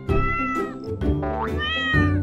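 Cartoon cat meowing in a children's alphabet show: a few bright, drawn-out meows in quick succession, close and clear with no talk over them.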